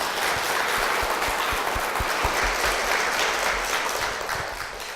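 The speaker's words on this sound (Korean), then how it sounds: "박수로 모시겠습니다" A church audience at Cheonho First Church applauds to welcome a guest onstage, a dense, loud round of clapping that holds steady and tapers slightly at the end.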